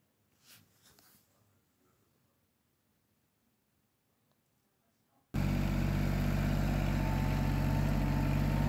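Antonio Carraro Tigrecar 3200 mountain tractor engine idling, a loud, steady, close drone that cuts in abruptly after several seconds of near silence and holds without a break.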